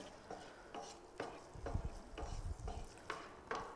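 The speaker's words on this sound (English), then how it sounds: "I like when you hear that sizzle and that crackle." Pancetta sizzles and crackles as it caramelises in a pan, a faint, steady fry broken by regular scraping strokes of a spoon stirring it.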